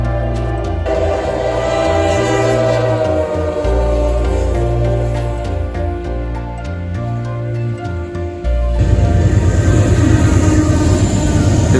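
Freight train 154 led by two GE Evolution (GEVO) locomotives rumbles past close by, a loud, steady roar of engines and rolling cars with heavy low drone and a sharper surge of rail noise near the end.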